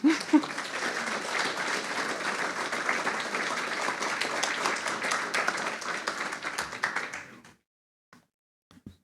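An audience at an author talk applauding to welcome children's book author Thacher Hurd: warm, dense clapping from a roomful of people, sustained for several seconds before fading out to a few last scattered claps.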